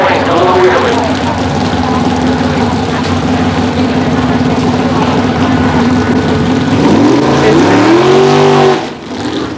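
A race car lifts into a wheelie with its engine roaring loud and steady, the pitch sweeping upward near the end before cutting off abruptly, while a commentator talks over it.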